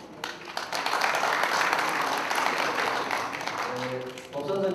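Audience applause rises at a press conference in Gwangju launching a citizens' assembly, as guests are introduced; a broad wash of clapping builds quickly and holds steady before fading, with a voice resuming at the close.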